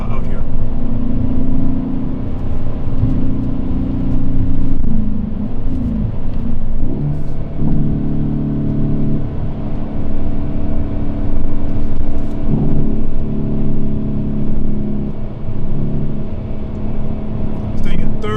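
A 2020 Hyundai Veloster N climbs through revs while driving in third gear on a canyon highway, giving a loud, close, droning engine note that rises and shifts in pitch. Someone talks over it.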